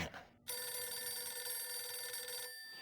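A telephone rings on the in-game TV talk show "The Men's Room" in Grand Theft Auto IV: Episodes from Liberty City, a bright, steady electronic ring lasting about two seconds. It starts after a brief soft bit of background and ends abruptly.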